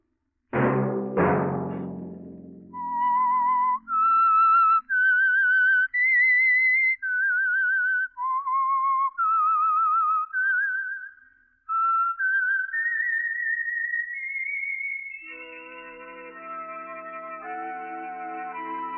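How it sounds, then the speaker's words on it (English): A clear melodic whistled tune of wavering held notes after two sharp opening hits, the theme of the 1952 radio drama The Whistler, ending as it blends into swelling orchestral music. "Let that whistle be your signal"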